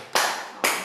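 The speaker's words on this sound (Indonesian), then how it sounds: "Tepuk tangan, kalian bisa fokus." Students clapping during a biology class session, two sharp, loud claps about half a second apart, each with a short decaying tail, no talk in between.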